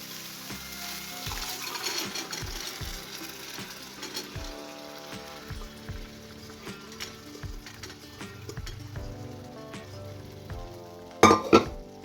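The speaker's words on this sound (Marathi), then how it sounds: "आता ह्याच्यात घालूया राजमा बघा राजमा हे बघा शिजलेला आहे" Cooked kidney beans drop into a pan of spiced masala sizzling in oil, a steady frying hiss with soft thuds and a few sharp metallic clinks of a spoon against the pan near the end.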